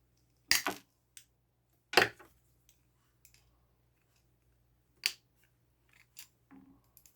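Wire cutters snip through a wire coat hanger during a mid-century desk lamp rewiring job, a few sharp separate metallic clicks with quiet pauses between them and small handling noises afterward.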